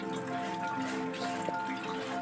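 Steady rain pattering on a surface in a village during days of continuous rainfall, a soft even hiss of drops at moderate distance with a faint background hum.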